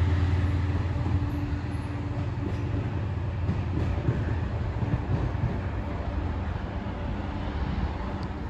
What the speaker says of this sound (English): DRS service from Wills and Brent sidings to Dungeness. 68017. A very fast Hornet.